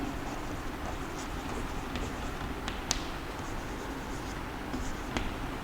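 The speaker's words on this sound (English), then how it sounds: "So let me write it in short." Someone writes out the definition of even numbers during a sixth-grade mathematics lesson, producing soft continuous scratching strokes with a few sharper taps, close and fairly faint, with no talking.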